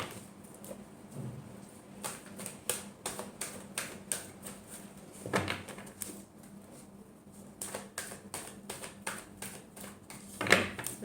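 Tarot cards being shuffled by hand, soft papery riffles and taps in uneven bursts, faint and close, with brief louder flutters partway through.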